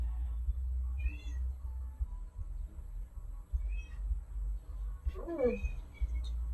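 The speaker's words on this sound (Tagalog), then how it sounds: "Ito na si Pichi Meow" A house cat gives a few short, faint meows at intervals over a low steady hum, with one slightly louder, wavering call near the end during a TikTok live stream.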